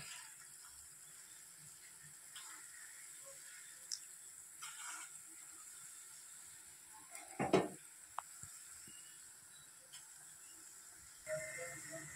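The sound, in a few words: ripe jackfruit fritters dropped into hot oil and frying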